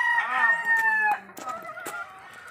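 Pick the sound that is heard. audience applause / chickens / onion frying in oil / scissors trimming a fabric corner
chickens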